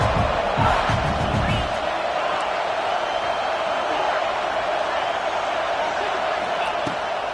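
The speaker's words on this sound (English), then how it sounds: "This crowd knows when to bring it." A stadium crowd cheering in a college football video game, a broad steady roar that holds for several seconds after a few sharp thumps at the start.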